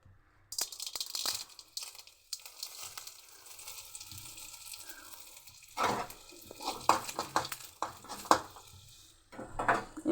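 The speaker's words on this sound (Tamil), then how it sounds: "இப்போ பாருங்கள், சட்னி தாளிச்சிருச்சு." Seasoning for Madurai-style thanni chutney is tempered in a pan, a soft sizzle running under clinks and scrapes of a utensil against the pan, with louder metallic knocks toward the end; close and fairly quiet, with no talking.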